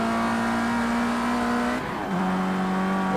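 Race car engine in the Project CARS 2 racing game, a steady loud drone that dips briefly as the driver lifts off for a late braking, then climbs again on re-acceleration.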